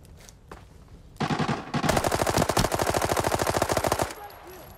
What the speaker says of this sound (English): Okay, I shot him a few times.